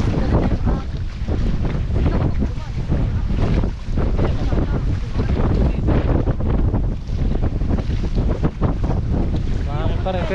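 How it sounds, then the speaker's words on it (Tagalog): Strong wind buffeting the microphone outdoors in the countryside, a loud, continuous roar with gusty surges throughout, briefly under speech. "Mahangin pa rin"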